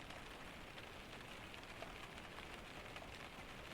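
Rain patters on the wooden roof of a cabin in a Scandinavian storm, a close, continuous hiss with faint individual drops ticking through it, steady throughout and without speech.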